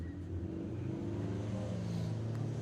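Drag racing doorslammer cars accelerating at a strip, a steady loud engine drone with rising harmonics throughout, heard from a distance with crowd ambience.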